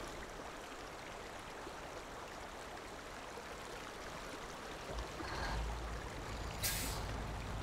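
A small truck in the off-road game SnowRunner pushes into water, a steady rushing wash under engine noise, swelling louder near the end with a brief hiss and a short high chirp, no talk.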